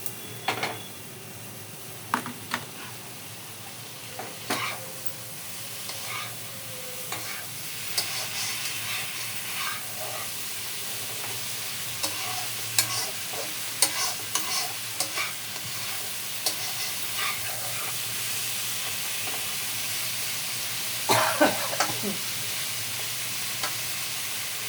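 A fish head and shrimp frying with masala in a pan, kept close and steady: a constant hissing sizzle with frequent scraping and clanking stirring strokes, louder bursts late on, and no talking.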